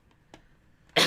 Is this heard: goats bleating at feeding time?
no